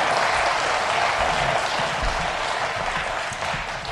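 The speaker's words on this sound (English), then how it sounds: "Give a round of applause for Tony." Concert audience applauds a board member, a continuous wash of clapping at steady volume across the whole stretch, with no voices standing out.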